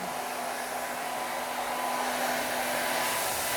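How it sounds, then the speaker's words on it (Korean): A hair dryer blows steadily while drying hair, a continuous airy whoosh with a faint tonal whine, close and moderately loud, running unbroken with no speech. "말릴 때 반대로 말려. 머리 결과 반대 방향."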